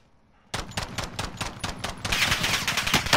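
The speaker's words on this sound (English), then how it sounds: "Receiving hostile fire." Rapid automatic gunfire in a military shooter video game, a dense run of close, loud bursts that thickens toward the end.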